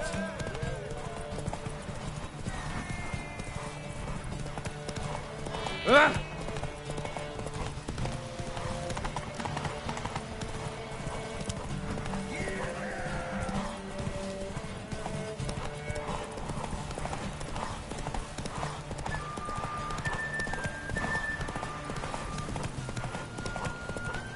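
Horse hooves clip-clop steadily, with occasional neighs and whinnies, as Roach the horse gallops in the video game The Witcher 3: Wild Hunt. Someone talks over the hoofbeats, with a single sharp knock midway.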